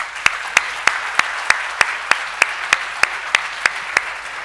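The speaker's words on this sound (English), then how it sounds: "If I can get one more round of applause" A round of applause from the audience at a Korean and Cold War veterans' annual government briefing, heard as steady, evenly spaced claps, about three per second, over a constant bed of crowd noise.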